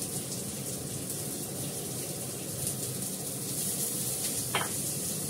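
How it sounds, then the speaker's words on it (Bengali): Potato and onion fry in a pan with a soft, steady sizzle throughout, fairly quiet and close, with faint stirring and a brief clink near the end. "পেঁয়াজটার সঙ্গে আমি আলুটাও ভেজে নেবো।"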